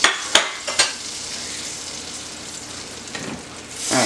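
Butter heating and sizzling in a large pan, a steady close hiss broken by a few sharp clatters of pan or utensil at the start and a brief swell near the end.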